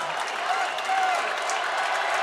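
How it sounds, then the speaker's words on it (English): Spectators roar and applaud in the stands at a wrestling world championship final in Belgrade, a dense, sustained wash of cheering and clapping from a partisan crowd. "the arms are up in the stands, people are cheering"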